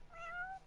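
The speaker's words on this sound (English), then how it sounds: "Just say hey buddy and let it just have a little meow at you" A cat in the Final Fantasy XV video game lets out a short, high, wavering meow, clear and close, with no talking.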